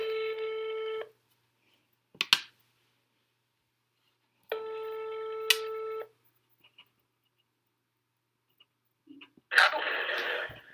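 Telephone ring-back tones on a redialed call: two long steady multi-tone rings a few seconds apart, separated by short clicks, with a burst of line noise at the end; no speech.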